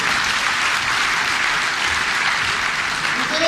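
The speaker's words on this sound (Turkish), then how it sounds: "Alkışlarınızla." Steady, dense audience applause welcoming a speaker at a 2014 Kutlu Doğum religious program in Mainz, sustained at an even level throughout with no voices over it.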